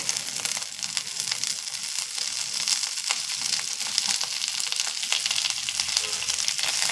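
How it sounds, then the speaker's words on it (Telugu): Curry leaves crackle and sizzle in hot tempering oil with a bright, continuous, close frying hiss and occasional crisp pops. There is no talk. "బాగా వేగిపోయింది కరివేపాకు తాలింపు అంతా"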